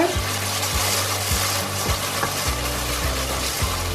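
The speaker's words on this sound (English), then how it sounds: "it's time for the ginger and garlic paste to go in" Ginger and garlic paste frying and being stirred in a pan, a steady close sizzle with regular scraping strokes of a spoon against the pan, no one talking.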